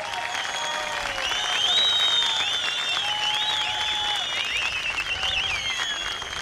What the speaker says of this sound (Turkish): Mehteran takımımıza bir alkış rica edebilir miyiz lütfen?